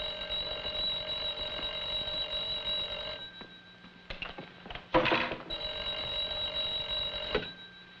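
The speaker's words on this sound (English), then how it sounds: "Kovac, answer the phone." A telephone rings in two bursts, steady and fairly loud, with a short pause and some muffled movement between them.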